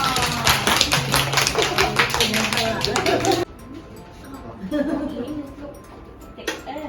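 A preschool class claps hands in a brisk, fairly close round lasting a few seconds, then it drops to quieter room sound with a voice speaking softly.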